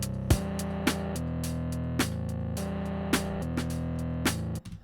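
A scary organ intro played on the 8x10 from Vintage Organs in Kontakt, sustained dark organ chords that change in a slow repeating pattern, each change marked by a soft percussive key click, heard alone.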